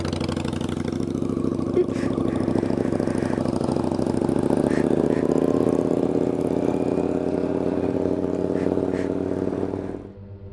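Motorcycle engines running steadily during a rescue ride out of a mountain trail, a loud close mid-pitched rumble with a few faint high clicks on top, cutting off abruptly at the end.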